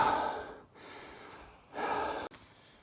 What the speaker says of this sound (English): My cardio sucks, so I'm breathing pretty good.